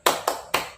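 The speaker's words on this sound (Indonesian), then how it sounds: "Kita berikan tepuk salut" A group in a teachers' training session does a salute clap, three sharp, loud, unison claps evenly spaced and close by.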